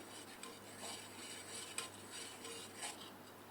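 A spoon stirs rooh afza syrup into boiled, cooled milk, giving faint, scattered clinks and light scraping against the vessel, very quiet and spread over a few seconds.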